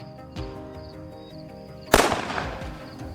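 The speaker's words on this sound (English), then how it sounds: "I steadied my rifle, fixed my aim on the biggest one," A single sharp rifle gunshot fired at a wild boar cracks out loud and near, trailing into a brief rolling echo, over a quiet outdoor background with faint earlier knocks.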